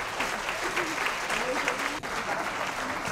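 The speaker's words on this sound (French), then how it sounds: "Donc on peut les applaudir aussi" Applause breaks out at an athletics trophy ceremony, a steady patter of clapping from the audience with a voice talking over it and a brief dip near the middle.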